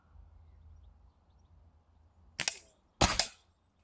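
A Diana 48 spring-piston air rifle fires a pellet: a sharp, loud crack with a brief rattling twang, after a lighter mechanical click and over a low hum.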